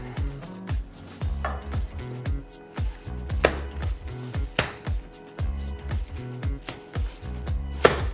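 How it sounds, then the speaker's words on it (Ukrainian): Homemade garlic sausage mince is slapped down onto a table again and again, giving a dozen or so close, heavy, soft thuds in a steady rhythm with a brief squishy tail after each blow. "Перекладаємо на стіл фарш і відбиваємо його"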